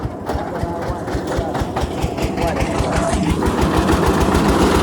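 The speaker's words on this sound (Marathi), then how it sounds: "आता फक्त हरभऱ्याचं डाळ वर द्यायचं मशीन तिथं आणि चालू करतो" A gram threshing machine engine runs close by with a rapid, steady chugging pulse that holds even and loud throughout.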